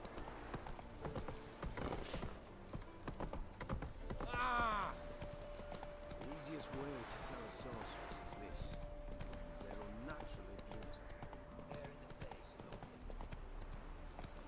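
Rhythmic clip-clop of horse hooves over a faint soundscape in the video game The Witcher 3: Wild Hunt, with a brief whinny partway through.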